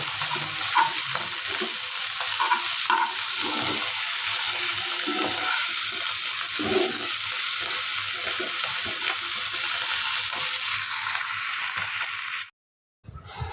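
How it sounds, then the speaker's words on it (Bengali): Onions with whole garam masala and bay leaves fry in oil with a continuous close sizzle, broken by repeated scraping strokes of stirring, before the sound cuts out near the end. "আর এখানে আমি তেলের মধ্যে পেঁয়াজ আর হচ্ছে গোটা গরম মশলা আর তেজপাতা দিয়ে ভালো করে ভেজে নিয়েছি"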